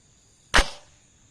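A single sharp metallic clack as a rifle bolt chambers a .22 Grendel (.224) cartridge, the bolt having been jammed and forced back with a screwdriver; one brief, close transient with a short decaying tail in quiet surroundings.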